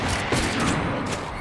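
Gunfire in the video game Hard West 2: a dense, loud burst of shots with rapid overlapping cracks over a sustained noisy rumble, brief and close.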